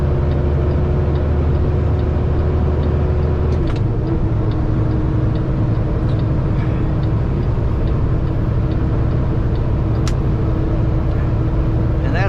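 A car's engine drones steadily on a road, a loud continuous rumble that rises slightly in pitch as it accelerates, with faint higher-pitched traffic noise around it.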